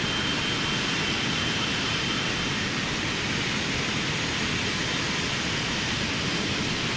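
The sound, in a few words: Boeing 777 jet engines on takeoff, from a flight simulator game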